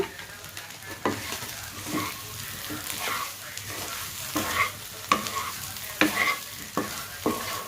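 Egg yolk fry with chicken masala sizzles in a pan while a utensil stirs it, giving steady frying hiss broken by repeated close scraping strokes, with no talking.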